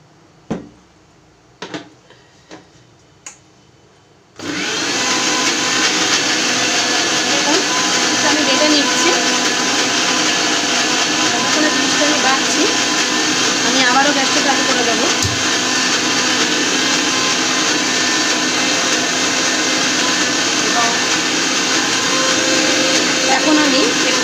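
An electric grinder blends a chickpea mixture into a paste, kicking in after a few light clicks and then running as a steady, loud whir that lasts without a break.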